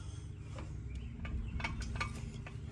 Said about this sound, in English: I hear my jack making some noise